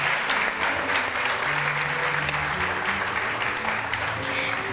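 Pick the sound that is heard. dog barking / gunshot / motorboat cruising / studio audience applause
studio audience applause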